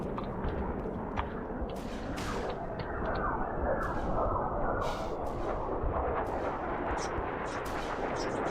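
Dense video game gunfire rattles continuously in rapid bursts, loud and close over a constant low roar of in-game noise, with no talking.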